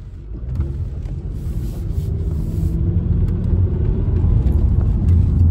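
A Mazda 3 drives off in drive after a transmission control module replacement, with a steady low engine rumble and road noise that builds gradually, close and continuous with no talking.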